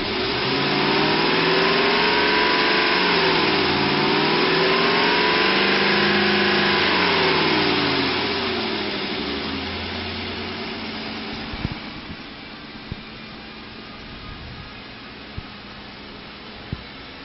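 A 2003 Ford Expedition with a 5.4 liter engine and automatic transmission runs steadily at close range, a loud droning hum that shifts pitch early on and settles into a quieter idle with a few light clicks.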